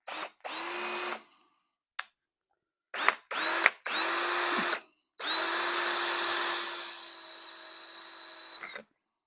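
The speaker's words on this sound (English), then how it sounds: "you got to drill a hole in it" A power drill bores a hole in the oil pump plug of a 302 engine with a clogged oil pump, giving a close whine in several short bursts followed by one longer run that slows toward the end.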